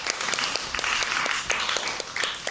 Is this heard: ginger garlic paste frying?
no